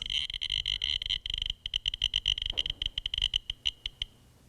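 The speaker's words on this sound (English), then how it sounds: "if I take my Geiger counter here, we can hear the radiation coming off of this" Rapid bursts of sharp Geiger counter clicks close to a radiation source, loud and near, falling into a stuttering rhythm that thins out and stops near the end, with no one speaking.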